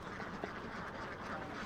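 Ducks in a flock kept in China quack faintly in a quick run of calls, small and somewhat distant.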